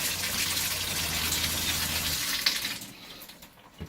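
Water gushes steadily through an RV's plumbing lines as they are flushed with bleach solution. The rushing flow is close and continuous, then cuts off, leaving faint drips and clatter.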